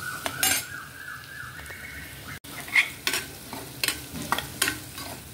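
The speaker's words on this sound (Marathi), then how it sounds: "मध्ये मी सर्व टाकलेले आहे: जिरे, मोहरी, लसूण, हिरव्या मिरच्या, कांदा आणि हळद" A tempering of cumin, mustard seeds, garlic, green chillies and onion fries in hot oil, soft sizzling under repeated scraping and stirring clinks of a spoon against the pan.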